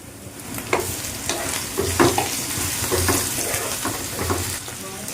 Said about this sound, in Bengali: এবার এই দেখো আদা আর রসুন বাটা দিয়ে দিলাম